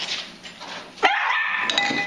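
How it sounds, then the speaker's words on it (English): A dog, coaxed toward an open beer during a mocha stout tasting, gives a brief high whine and yip partway through, close and fairly loud over room noise. "Look at the beer drinking dog."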